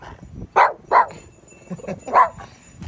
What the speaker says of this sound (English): he just barks off